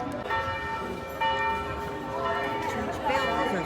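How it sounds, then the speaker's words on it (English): Church bells in Lucerne, Switzerland ring out for noon with sustained, overlapping tones, new strikes swelling every second or so over a murmur of outdoor background noise. "Church bells are still ringing for noontime."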